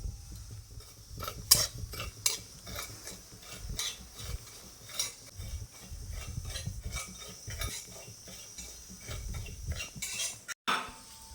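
Scraping and light rattling of a utensil stirring poppy seeds in a dry pan, repeated irregular strokes at close range, no voices.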